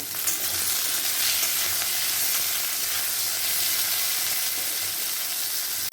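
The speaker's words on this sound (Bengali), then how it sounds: "পরিমাণ মতন হলুদ আর নুন দিয়ে নেব, দিয়ে একটু ভেজে ভেজে নেব।" Pieces of katla fish frying in hot oil with salt and turmeric, giving a loud, steady, close sizzle and hiss that runs without a break, with no voices.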